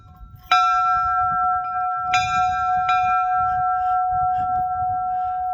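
A restored century-old ship's bell, mounted at a Spanish Mission homestead, is struck three times, each bright metallic clang ringing out with a long, sustained tone over faint background noise.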